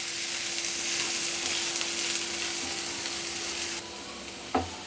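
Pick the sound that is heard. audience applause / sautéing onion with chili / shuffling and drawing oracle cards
sautéing onion with chili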